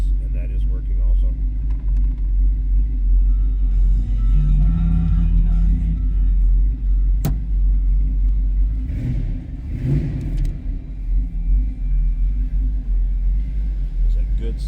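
A 1936 Chevrolet Master Coupe street rod engine idles steadily with a deep low rumble, heard close up, with a brief rise in revs partway through.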